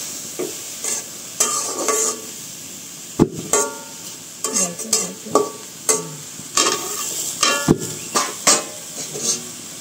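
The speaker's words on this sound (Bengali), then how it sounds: "এখন লাউটা ভালো মতন ভেজে মজাবে" Bottle gourd frying in a pan with a little sugar and water, stirred so a spatula scrapes and clatters in repeated bursts over a soft sizzle, close and fairly loud, with no talk.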